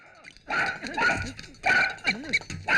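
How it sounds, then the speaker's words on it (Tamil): A dog barks and whimpers in an agitated, repeated burst of yelps and whines, loud and close, in a dubbed Tamil action film scene. "இந்த நாய் என்ன இப்படி தொடர்ந்ததே?"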